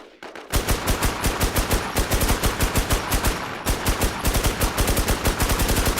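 Rapid automatic gunfire comes from the shooter video game Infest. After a brief quiet start, a dense, loud, rhythmic stream of shots runs continuously, with one short break midway.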